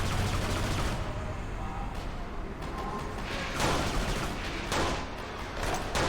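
Rapid gunfire from the shooter game Kane and Lynch 2: Dog Days, with dense bursts of automatic shots crackling continuously over a noisy battle background.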